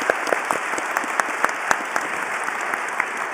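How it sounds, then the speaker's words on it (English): An audience gives a round of applause for athletes at a launch event for a world games for visually impaired sport, a sustained, even wash of clapping with a few sharper individual claps standing out. "Can you give them a round of applause?"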